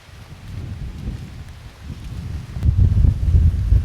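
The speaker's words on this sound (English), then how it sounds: "It's kind of a windy day" Wind buffets the microphone on a natural Florida barrier-island beach at Caladesi Island state park, a low rumbling roar that builds in gusts and grows strongest near the end.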